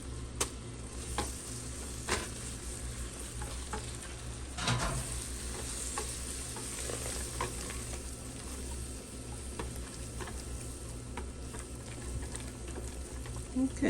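Fresh spinach going into a hot pan for spinach dip, with a soft steady sizzle and occasional stirring scrapes and clicks.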